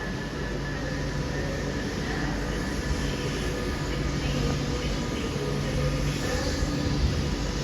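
A train leaving London Euston for Crewe gives a steady rumbling roar of wheels and motors with a faint tonal whine, heard close and unbroken throughout.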